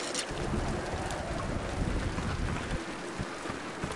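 Steady rain falls in Tomb Raider (2013), a continuous broadband hiss with a low rumble beneath it, even and moderately loud with no voices.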